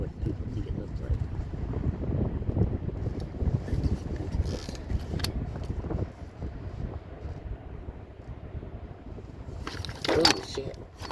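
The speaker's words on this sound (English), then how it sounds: "The wind's picking up, of course, right?" Wind buffets the microphone outdoors in Indiana with a constant low rumble that swells and gusts, while a person talks over it.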